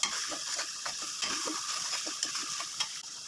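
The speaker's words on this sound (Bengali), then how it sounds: "এখন আস্তে আস্তে করে ভেজে নিচ্ছি।" Cumin powder, meat spice and a little water fry gently in a pan for beef biryani, a continuous close sizzle broken by repeated scraping stirs, with no voices.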